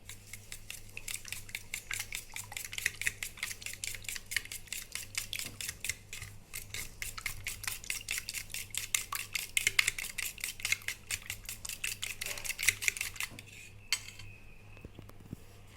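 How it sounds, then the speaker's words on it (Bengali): A spoon rapidly whisking egg, milk and flour pancake batter in a bowl, a fast steady clatter of metal against the dish, close and continuous before stopping near the end. "ভালো করে এবার সবগুলো মিশিয়ে নেব।"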